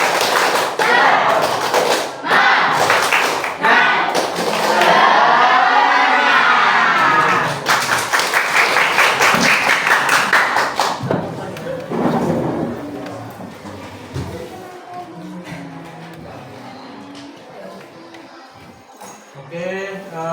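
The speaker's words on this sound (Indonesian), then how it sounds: "Tepuk semangat" A school class performs a rhythmic spirit clap, fast loud unison claps and chanting voices with shouts, then fading into quieter chatter and a few lighter claps.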